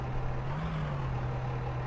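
A truck engine idles steadily at a steel-making and power setup, a loud low rumble with a constant hum running unbroken and close by, with no talk.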